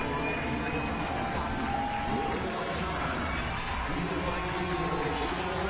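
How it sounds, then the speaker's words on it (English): Spectators roar steadily for a CrossFit athlete in the final seconds of a muscle-up biathlon heat at the 2014 Reebok CrossFit Games, a continuous broad crowd wash with shouting voices throughout. "The crowd urging Tyson Takasaki on here."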